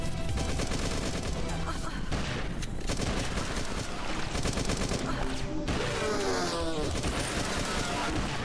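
Rapid, dense bursts of shotgun fire and booming blasts in the first-person shooter game Beyond Sunset, loud and nearly continuous, with a voice intermittently talking over the gunfire.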